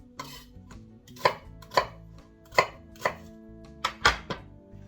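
A knife roughly chops an onion on a board for a Korean BBQ short rib sauce: about eight crisp, close thuds in an uneven rhythm, with a quick double chop near the end and no voices.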